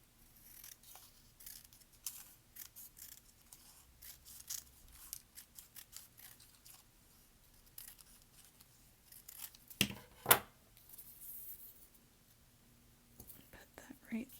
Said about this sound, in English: I'm going to cut this one a little bit thinner.